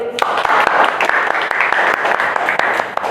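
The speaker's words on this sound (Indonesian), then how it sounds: "Tepuk tangan buat Alvin" Classroom applause from a group of students, a steady dense patter of many hands clapping close by for about three seconds with a few sharper claps standing out and faint talk underneath.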